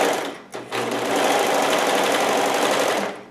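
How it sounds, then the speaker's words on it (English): A sewing machine that trims the fabric as it stitches runs across an aloha Hawaiian shirt from a Simplicity 3852 pattern. After a brief start-up it settles into a loud, close, continuous whir for a few seconds. "now I'm going to sew the garment, turn the machine on."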